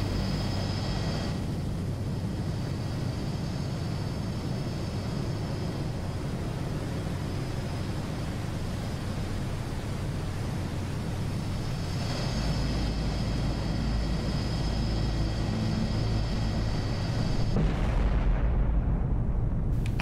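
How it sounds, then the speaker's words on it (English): Cruise missile launch and impact in the Cold Waters submarine video game: a steady, loud roaring rumble with low booming texture that swells toward the end, sounding alone without speech. "Cruise missile engaged."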